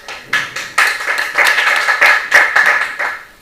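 An audience at a speech-marathon event breaks into a round of applause: irregular bursts of hand claps, loosely spaced and never settling into a steady roar, with no talking over them.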